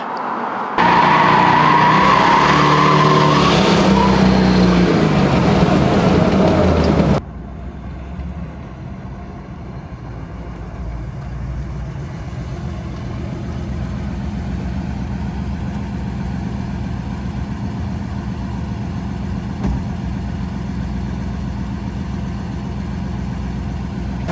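A 1974 Pontiac Firebird Trans Am Super Duty with a 455 engine and four-speed, on the road: a loud, dense roar for the first few seconds, then a steady, lower engine drone that continues without a break.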